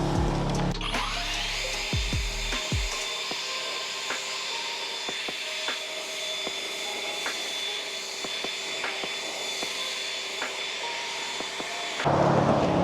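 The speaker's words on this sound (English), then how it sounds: "Come through with our leaf blower." A leaf blower dries a freshly washed car during professional detailing, a steady, loud whooshing whine that runs for about ten seconds after starting up, then cuts off abruptly.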